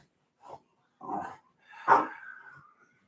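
Dogs indoors in a room, one giving a couple of short soft barks and whimpers followed by a longer whining yelp, close by and alone with no talk.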